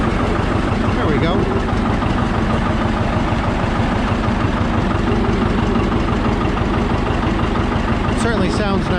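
A John Deere 730 diesel tractor engine runs steadily at close range, a loud continuous low rumble with rhythmic chugging throughout, with a brief higher squeak or clank near the end.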